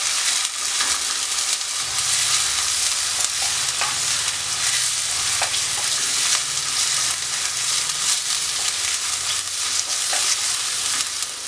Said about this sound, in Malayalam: ഉള്ളി ഇട്ട് കൊടുക്കുക ഒന്ന് ചെറുതായിട്ട് വഴറ്റിയെടുക്കുക അതിൻ്റെ കൂടെ തന്നെ എടുത്ത് വെച്ചിരിക്കുന്ന പച്ചമുളകും ചേർത്ത് കൊടുക്കാം